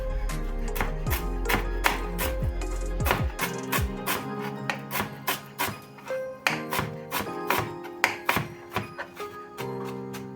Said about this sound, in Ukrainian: петрушку і кріп, теж дрібно нарізаю.